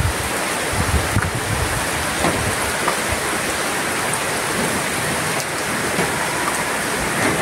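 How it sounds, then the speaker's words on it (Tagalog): Heavy rain pours steadily during a flood-prone downpour, a dense unbroken hiss and patter close to the microphone with no let-up. "Di pa rin humupa yung ulan"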